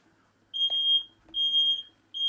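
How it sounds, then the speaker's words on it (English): A kitchen smoke alarm set off while an egg boils, sounding a piercing high beep in three long pulses separated by short gaps, loud and close with nobody talking. "How can anyone set a smoke alarm off boiling an egg?"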